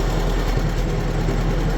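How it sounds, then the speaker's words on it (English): A tractor engine idles close by with a loud, steady, low rumble that continues without change. "let's hook up the tractor and we'll go from there"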